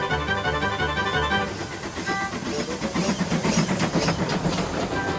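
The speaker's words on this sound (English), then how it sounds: "He steamed gently back into Knapford Station." A steam locomotive runs along rails with rhythmic clickety-clack, chuffing and hissing steam, fairly loud and close, with a soft voice briefly over it.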